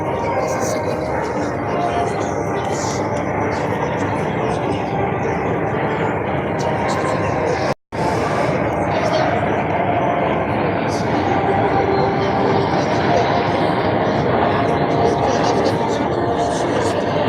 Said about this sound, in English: the Breaking Jet Team 2018 in its banana pass